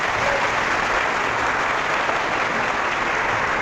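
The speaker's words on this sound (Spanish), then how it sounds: "Un aplauso para él." A crowd at a religious debate applauds, a steady wash of clapping that stays loud and unbroken throughout.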